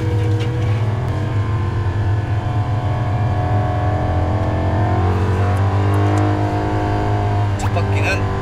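Jaguar F-Type SVR on a warm-up lap of a race circuit, heard from inside as a steady, loud engine drone with shifting revs, while people talk over it continuously.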